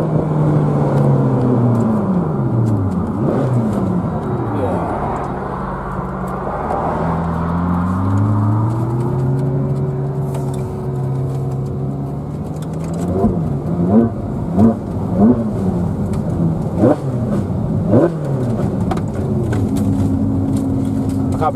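Ferrari 458 Spider heard onboard, its engine rising and falling through gears with sweeping pitch changes and sharp upshifts, close and loud, while people talk over it.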